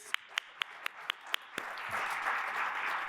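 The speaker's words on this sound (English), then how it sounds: "Give them a big round of applause." Clapping for event sponsors at a Columbus Metropolitan Club forum opens as a handful of sharp, evenly spaced claps, then swells into a steady wash of audience applause.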